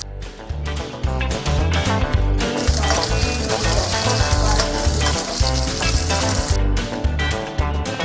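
Beef patties for Salisbury steak fry in a pan with a loud, steady, close sizzle and crackle, with occasional stirring or scraping and no talk.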